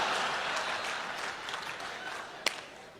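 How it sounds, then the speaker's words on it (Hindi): Audience applause at a live comedy poetry performance, a full round of clapping that starts strong and slowly tapers off, with one sharp loud clap standing out near the end and no speech. "समापन पर भरपूर तालियां बजा देना"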